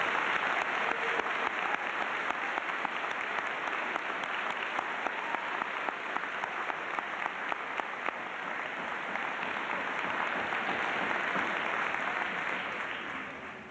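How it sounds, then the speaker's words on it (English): An audience at a Suttons Bay High School class of 1999 graduation ceremony applauds scholarship recipients, a sustained, even round of many hands clapping from across a large room for about fourteen seconds. "Let's have a round of applause for these people."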